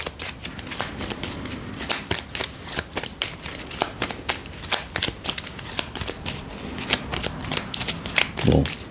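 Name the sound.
shuffling playing cards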